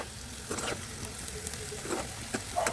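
Bitter gourd and onions fry together in a pan for an Andhra-style fry, giving a soft, steady sizzle broken by a few faint stirring scrapes, with no one speaking.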